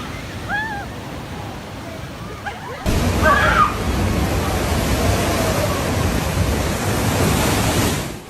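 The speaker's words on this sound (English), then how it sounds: "The waves may look gentle, but they can be extremely dangerous." Ocean waves breaking on a beach shore, first a quieter wash with a few faint calls, then a sudden jump to a loud, steady roar of surf and wind noise that holds to the end.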